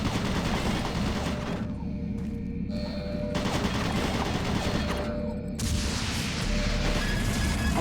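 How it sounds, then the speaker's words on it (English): Automated turret guns in the video game Doom 3 fire in dense, continuous bursts, loud and close, with brief lulls between rattling volleys over a heavy background rumble. "Warning, automated turret guns online."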